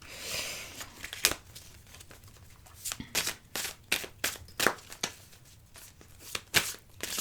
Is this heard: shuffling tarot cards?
yes